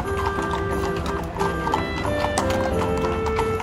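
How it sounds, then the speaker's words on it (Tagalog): Police horses clop along on hard ground near a parliament rally, with steady overlapping hoofbeats close by and a whinny rising from the busy crowd noise. "Sasakay sa kabayo."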